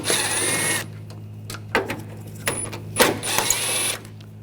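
A 10mm socket works screws loose from a headlight assembly on a 2014-2020 Nissan Rogue: a steady mechanical whir, then a few close, sharp clicks and knocks of the tool.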